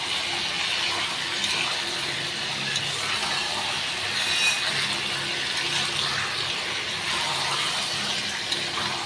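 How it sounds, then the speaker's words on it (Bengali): Hot water poured into a meat curry in a home kitchen, a steady continuous splashing pour heard up close for several seconds with no speech. "গরম জলটা এর মধ্যে দিয়ে দেবো।"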